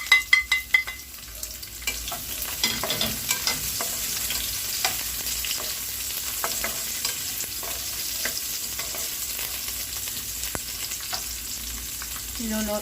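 Shallots frying in a hot pan for chicken adobo, a steady crackling sizzle with a few clattering stirs near the start, no talking.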